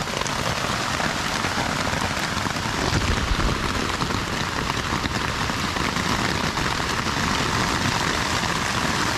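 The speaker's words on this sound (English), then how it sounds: "That is hail in my tent." Hail drums steadily on a tent at night, a dense, loud, continuous patter of hard pellets striking the fabric, heard alone with no talk.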